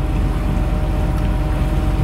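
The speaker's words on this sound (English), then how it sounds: "this low down rumbling thudding thing, which sounds just the same as the exhaust out of a funnel of a tug" A boat engine on the Norfolk Broads gives a loud, continuous low rumbling thud, steady and close, like a tug's funnel exhaust under heavy load.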